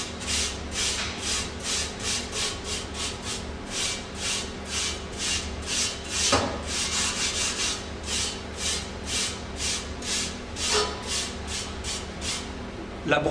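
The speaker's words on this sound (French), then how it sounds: "Après avoir préchauffé le grill, bien le brosser." A wire brush scrubs hot, preheated cast-iron grill grates in fast, rhythmic back-and-forth rasping strokes, loud and close, repeating steadily throughout.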